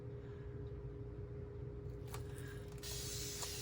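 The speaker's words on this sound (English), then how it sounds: "Just spray each one as I go so the alcohol does not evaporate so" A spray bottle of alcohol gives a short hissing spritz, then a longer steady spray, close and fairly quiet over a constant low hum.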